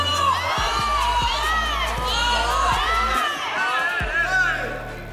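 A crowd at a wrestling match, where a fighter in white shorts has locked in a triangle choke, shouts and cheers loudly. The roar is continuous, with individual yells and whoops rising out of it.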